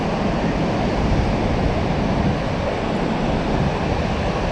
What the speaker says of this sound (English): Waves are going off today.